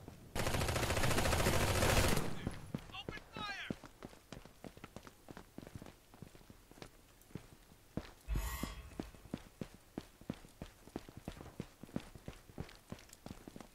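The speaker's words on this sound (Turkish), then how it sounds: "Kim nereden sıkıyor oğlum, görmüyorum ki." Rapid gunfire bursts and scattered shots in the shooter game Eximius: Seize the Frontline, with a long loud automatic burst at the start, another burst later and repeated sharp single reports and footsteps throughout.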